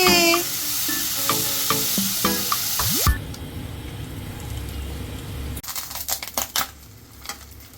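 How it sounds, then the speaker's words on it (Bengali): Paneer fries in a pan with chopped onion and bell peppers, giving a loud hiss that drops to a softer sizzle, followed by several sharp clattering stirs near the end. "কিন্তু পনিরগুলো সুন্দর ফ্রাই হয়ে গেলে এর মধ্যে আমরা দিয়ে দেবো কুচনো পেঁয়াজ, কুচনো বেল পেপারস আর ক্যাপসিকাম।"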